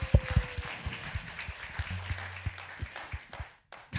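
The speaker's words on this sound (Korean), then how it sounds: "우리 주님께 영광의 박수 올려드릴까요?" A church congregation claps in steady, sustained applause during a worship service, the patter filling the room for several seconds before tapering off.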